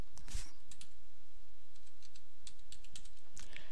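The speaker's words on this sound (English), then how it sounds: "Let's type in our tax ID." Typing a tax ID on a computer keyboard, with scattered sharp key clicks and short bursts of taps spread over a few seconds, close and clear over a quiet background.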